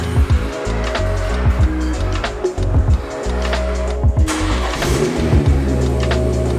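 A BMW car engine starting in a garage, with the cranking and catch followed by a loud, close, rumbling idle with uneven pulses.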